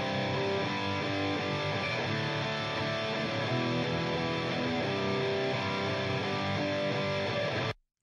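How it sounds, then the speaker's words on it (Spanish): Rock electric guitars soloed alone in a mix, heavy distorted chords sustaining loud and dense throughout before cutting off abruptly. "son unas guitarras eléctricas bastante rockeras"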